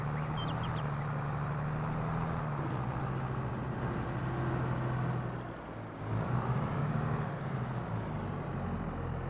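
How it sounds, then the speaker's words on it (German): A feed mixer wagon drives in Farming Simulator 22, its engine giving a steady, loud droning hum with a brief dip and surge, with no talking over it. "Aber mit dem Futtermischwagen schon."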